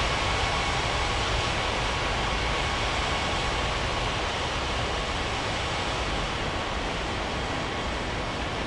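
Airliner taking off in an air traffic control game at Ngurah Rai Bali International airport, a steady broad roaring jet engine rush, loud and unchanging throughout, with no voices.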